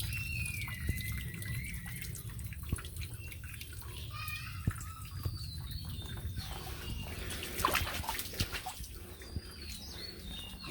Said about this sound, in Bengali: পাহাড়ের প্রত্যেকটা চূড়া থেকে কিন্তু এইভাবে পানিগুলি বেয়ে বেয়ে নামতেছে